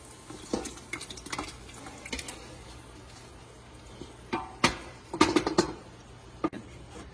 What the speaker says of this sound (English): And so we are going to add our tomatoes.